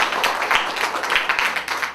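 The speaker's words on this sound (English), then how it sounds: "Please give him a round of applause." An audience claps to welcome a guest at the opening of a university exhibit, a short run of close, distinct handclaps that sound like a small group rather than a large crowd.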